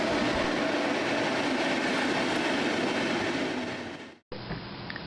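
A passenger train in Germany rumbles steadily at close range, a dense continuous roar that fades and cuts off abruptly before a quieter hum resumes.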